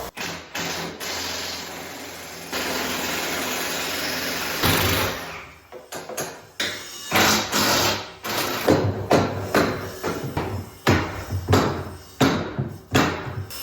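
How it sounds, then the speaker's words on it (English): Pry bar working bolts out of the ladder post on a John Deere air cart tank, a series of sharp metallic knocks and clanks in irregular rhythm after a stretch of steady hiss and rumble, close and loud. "Get those bolts out from the bottom now with the pry bar"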